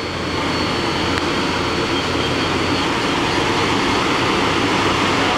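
Mori Seiki NL-3000Y CNC lathe spindle turning steadily at 1750 RPM, giving a loud, unbroken mechanical whir and broadband rush that holds level from start to finish with no talk over it.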